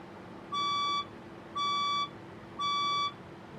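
A building fire alarm sounds three loud, evenly spaced electronic beeps, each about half a second long, with short gaps between them and no talk over them.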